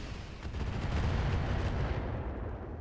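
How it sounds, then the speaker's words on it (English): Artillery fire pounds a mech in the video game RogueTech, a dense rumbling barrage of booming impacts that swells and then fades, heard without talk. "We got hit by artillery."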